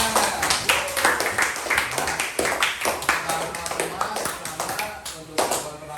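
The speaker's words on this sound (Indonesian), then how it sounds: "Tepuk tangan untuk kalian semua." A class of schoolchildren claps together, a quick ragged burst of overlapping hand claps in a rhythmic pattern, fairly close, with a teacher's voice over part of it.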